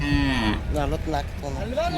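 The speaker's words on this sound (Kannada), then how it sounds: "ಇದು ಎಮ್ಮೆನೂ ಕೂಡ ಸೋಲ್ಡ್ ಔಟ್ ಆಗಿದೆ" A buffalo at a crowded buffalo market in Ranebennur, Haveri, gives a close, loud moaning low of about two seconds with wavering pitch, with crowd noise faint underneath.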